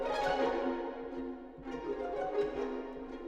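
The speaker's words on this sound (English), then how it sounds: "Then we've got these Pizzicato Strums." Pizzicato strums from the Spitfire Audio Fractured Strings sample library, plucked string chords sounding in fourths and fifths, a dense bright strum that rings, thins, then strikes again around the midpoint, moderately loud and alone.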